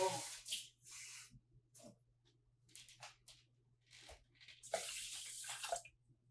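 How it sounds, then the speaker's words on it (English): Water pours in intermittent splashy bursts close by into a cooker pot, two cups' worth, with a steady low hum underneath and brief pauses between pours. "Now you just need to fill 2 cups of water."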